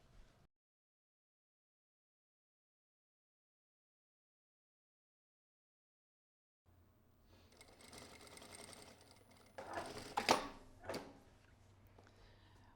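A sewing machine stitches a seam at low level after a long silence, running steadily for several seconds with a few louder clicks and knocks near the end.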